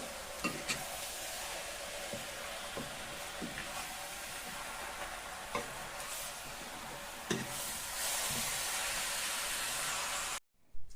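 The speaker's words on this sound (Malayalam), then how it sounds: "ഇപ്പോൾ ഈ മസാലയൊക്കെ നന്നായിട്ട് ഇതിലേക്കൊന്ന് നന്നായിട്ട് നമുക്ക് ഇളക്കി ഒന്ന് മിക്സ് ചെയ്യാം" Masala is being stirred into chicken in a pan. A loud continuous sizzling hiss is broken by regular spoon scrapes and knocks against the metal, and it cuts out abruptly near the end.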